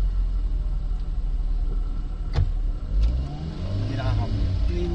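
A motorized tricycle engine revs up and strains as the clutch is let out, a steady close rumble with rising pitch sweeps near the end, while people talk over it.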